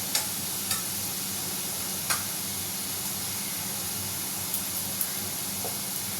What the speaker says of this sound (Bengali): একটু আলু ভাজছি